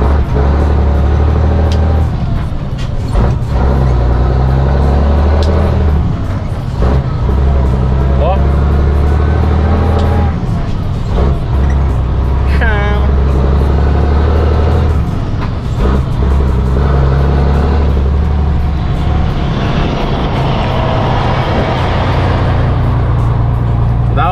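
A Volvo EDC truck out to load sand gives off a loud, steady low engine rumble that swells in places, with someone talking over it much of the time.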